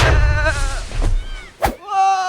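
Cartoon sheep bleats in a wavering, harmonic cry, with a short sharp burst partway through, loud and close over a busy cartoon soundtrack.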